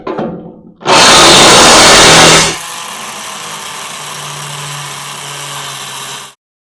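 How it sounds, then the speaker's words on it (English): A Sawzall reciprocating saw bites into a snow blower gearbox shaft with a loud, harsh burst of cutting lasting under two seconds, then settles into a steadier, quieter buzzing whine until it stops abruptly. "We're going to let the Sawzall do the work."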